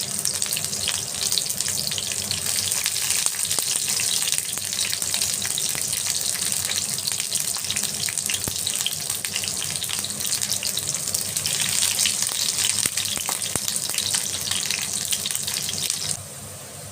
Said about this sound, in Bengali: এবার আমি পেঁয়াজগুলো দিয়ে লাল করে ভেজে নেব।